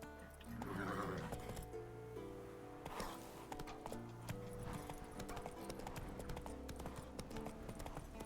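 Roach, the horse in The Witcher 3, trots with rhythmic clip-clopping hooves in a game scene, a whinny or snort early on, quiet under layered ambient game sound.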